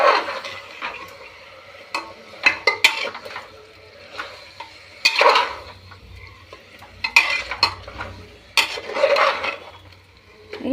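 Mutton and potatoes with masala are stirred in a pan, a spoon scraping and clinking against the metal in irregular bursts over a faint sizzle of frying, close and fairly loud, with no talk.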